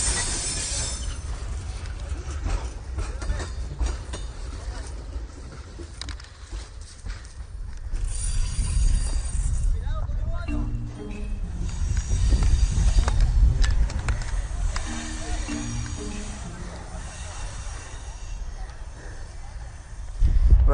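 A freight train, the so-called death train used by migrants, rolls past at close range with a steady low rumble and wheel rattle, faint squeals now and then, and a few voices in the background.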